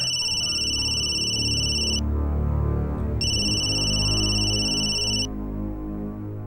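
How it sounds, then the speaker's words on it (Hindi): A phone rings with an electronic ringtone: two bursts of bright, steady high tones, each about two seconds long with a short pause between, over a low background rumble. "देखो किसका फोन है।"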